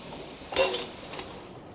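Fried battered bananas scooped out of a pan of hot oil with a metal utensil, giving a brief clink and scrape against the pan followed by a few softer taps, close and fairly quiet.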